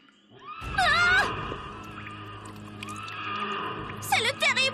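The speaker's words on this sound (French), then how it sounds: "C'est le terrible hennissement du cheval sans tête!" A loud cartoon horse whinny, the dreaded cry of a headless horse in a forest from My Little Pony, rings out in a wavering burst, then fades under a low rumble before a second, shorter whinny rises near the end.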